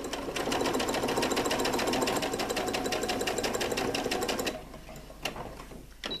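A sewing machine stitches a 0.5 cm seam along fabric pieces with a fast, rhythmic mechanical chatter that runs steadily for several seconds, then stops, leaving a few light clicks and handling noises.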